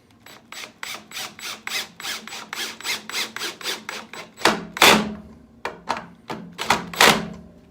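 A cordless drill drives screws into pine without pre-drilling while its clutch slips, giving a rapid run of regular ratcheting clicks, then a few louder, slower bursts of whirring and clicking close by.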